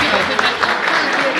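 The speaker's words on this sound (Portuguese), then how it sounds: "Aplausi, aplausi." A crowd applauds a performer, a dense and loud wash of clapping that holds steady throughout.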